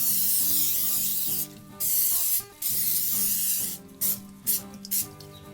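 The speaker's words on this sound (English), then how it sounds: "Next, I'm gonna take a little bit of olive oil and give it a quick spray." Several short bursts of olive oil spray hissing onto beef ribs, uneven in length, with a low hum underneath between bursts.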